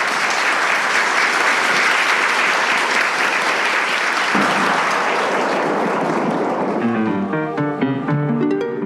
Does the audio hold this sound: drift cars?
no